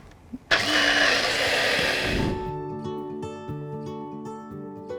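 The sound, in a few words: blender blitzing ginger, green chili and salt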